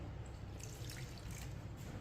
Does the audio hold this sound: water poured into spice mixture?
yes